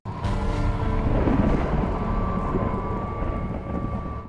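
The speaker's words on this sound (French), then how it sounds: "je vais pouvoir mettre mon bruit de tonnerre" A thunder sound effect layered into a Halloween night ambience rolls as one continuous deep rumble, loud and sustained for the whole stretch with no speech over it.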